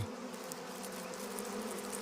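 A honeybee colony buzzes in a steady, faint drone, with many bees humming together at a close, even level.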